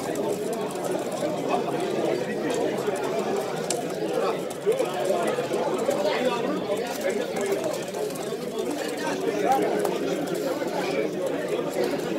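Tumbler pigeons coo softly at a pigeon auction amid a busy background of murmuring voices and fluttering movement, a steady crowded bird-market din.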